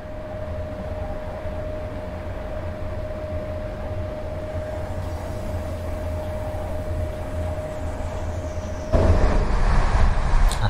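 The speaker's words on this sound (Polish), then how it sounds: "Gdzieś pociąg jedzie." A train runs in the MaSzyna train simulator game with a steady low rumble and a sustained tonal hum, growing suddenly louder and nearer toward the end, with no talking.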